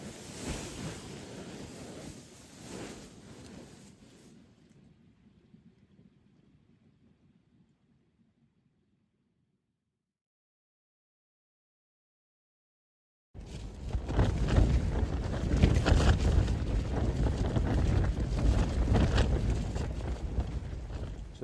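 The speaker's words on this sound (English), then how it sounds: "It's a bit windier today." Wind gusts roar and buffet outside a tent at a campsite, a steady broadband rush that fades to near silence partway through, then returns much louder and fuller.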